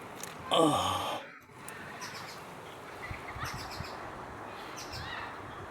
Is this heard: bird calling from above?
yes